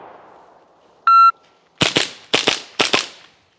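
Four sharp shots from a John Wick PitViper gas blowback gel blaster on a shooting course, fired after a short electronic start beep, in quick uneven pairs, loud and close with no talking.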